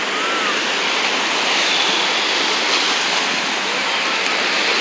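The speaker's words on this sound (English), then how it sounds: "The waves are getting bigger." Ocean waves breaking on a beach make a dense, constant roar of surf, loud and unbroken, with no talking.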